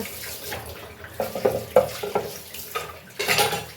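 Soaked kitchen items are rinsed under a running tap, with irregular splashing bursts of water and faint clinks, fairly quiet and with no talking.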